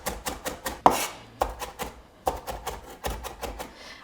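A knife chops parsley with its stems on a cutting board for meatball mixture, in quick irregular bursts of crisp taps with short pauses, close and clear, no talk.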